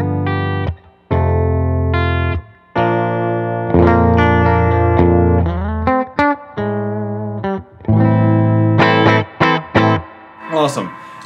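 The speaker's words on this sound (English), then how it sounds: "I have a native audio war party on the floor, which is just the greatest distortion ever" An electric guitar with a bridge P90 pickup played through a heavy distortion pedal on the floor, thick sustained chords and riffs with short pauses between phrases, loud and close.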